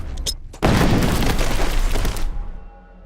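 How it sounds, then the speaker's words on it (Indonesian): A sudden loud landmine explosion erupts and rumbles on for about two seconds before fading into a low ringing quiet. "dia malah terjebak di ladang ranjau yang membuatnya terkena ledakan"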